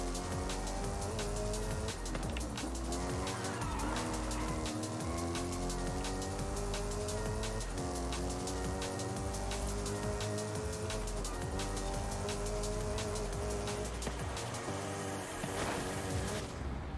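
Car engine note from the racing video game Forza, a continuous revving drone with rising and falling harmonic sweeps as gears shift, punctuated by tire squeals and crackles, steady and loud throughout with no talking.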